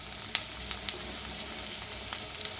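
Ginger, garlic, cinnamon, cloves and green chillies frying in a pan for mutton chops, a steady soft sizzle with a few faint clicks of stirring, close and on its own with no voices.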